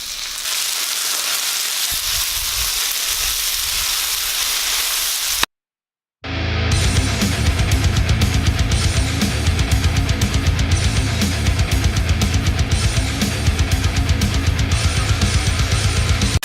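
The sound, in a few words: bacon and pulled pork sizzling on a Blackstone griddle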